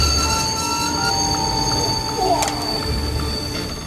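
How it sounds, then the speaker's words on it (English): A train arriving at Itami station rolls in with a steady rumble and a sustained tonal whine, and a brief wheel squeal rises near the end as it slows. "At the next station, Itami, the train overshoots the platform by over 3 car lengths."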